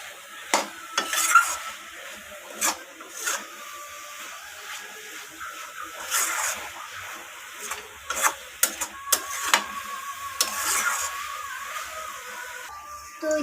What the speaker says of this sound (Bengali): সমস্ত কিছু আবারও নাড়াচাড়া করে এইভাবে আমি রান্না করে নেব